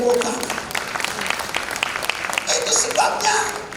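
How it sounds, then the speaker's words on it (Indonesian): Church congregation at a senior community worship service applauding together, a moderate wash of clapping lasting a few seconds, somewhat distant, with voices mixed in. "Beri tepuk tangan."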